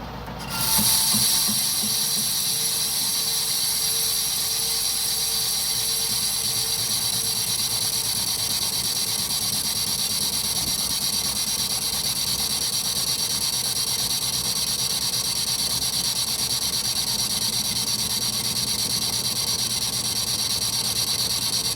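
ISCAR carbide insert taking a 1 mm facing cut on a lathe at 175 RPM, a loud continuous high-pitched metal-cutting whine with grinding undertones, steady throughout after a brief start.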